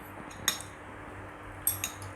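Metal cutlery clinks against a bowl while bakmi noodles with thick sambal are stirred, a few sharp faint taps spaced apart over a quiet room background.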